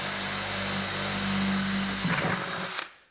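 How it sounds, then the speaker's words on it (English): A power drill whirs steadily, then bites into a plastic bucket with a rougher grinding burst before winding down and stopping. "Let's go ahead and drill some holes into the bucket."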